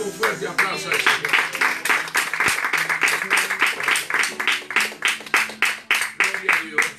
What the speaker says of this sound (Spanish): Damos un fuerte aplauso al Señor.